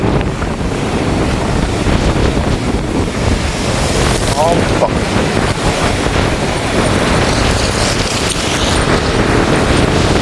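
Strong storm wind buffets the microphone over a steady roar of sea waves at Point Pedro, loud and continuous throughout.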